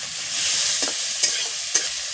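Prawns frying together with onions in a pan, a steady broad sizzle with three or four sharp clinks of a spatull stirring, no voices.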